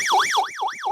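A Synlett caregiver call button alarm sounds loudly and steadily. Its tone sweeps up and down in a fast, repeating wail, like a siren, with no talking.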